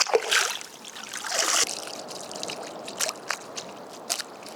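Water sloshes and trickles as ingredients for fish tikka are rinsed by hand, close and busy at first, then settling into softer splashes and drips.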